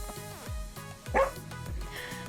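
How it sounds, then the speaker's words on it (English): Several dogs bark in short yipping bursts outdoors, with repeated woofs and one louder, higher yelp near the middle over a steady background hum. "Now my dogs are gonna bark."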